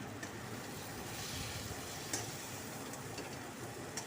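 Taro curry with garam masala stirred and sizzling in a wok, a steady close frying hiss with faint scraping ticks of the spoon throughout, no talk.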